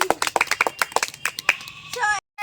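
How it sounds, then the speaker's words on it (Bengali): A group of neighbourhood girls claps together during a cold-drink dress-up game, a brief burst of hand claps mixed with excited voices that ends abruptly. "ওর জন্য একটা জোরে হাত তালি সবাই।"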